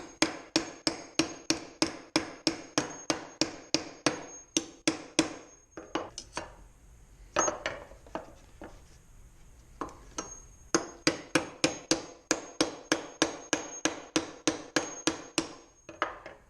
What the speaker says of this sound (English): I'm just using the rounded edge of a regular hammer